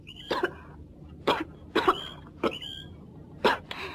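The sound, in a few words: cough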